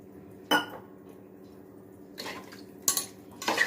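Chicken stirred in a pot for a spicy country chicken fry, giving three or four sharp metallic scrapes and clinks of a ladle against the pot, separated by quiet pauses.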